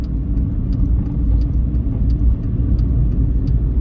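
A car drives slowly through dense fog on the road to Barsana, its engine and tyres giving a steady, loud low rumble heard from inside the cabin, with faint light ticks now and then.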